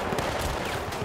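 Rapid bursts of automatic gunfire in the video game Battlefield Bad Company, dense overlapping cracks and rattles packed into a loud, continuous barrage with no talking.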